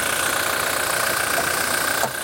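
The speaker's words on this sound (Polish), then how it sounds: "Oczywiście nadal słyszycie, że to jest diesel" A Toyota Hilux 2.8 D-4D diesel engine idles with a steady, even clatter and hum, close and constant, with a slight shift near the end.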